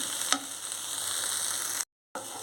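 Okra pieces cooking in a little oil in a pan, giving a steady, quiet sizzle with one brief clink early on and a short cut to silence near the end.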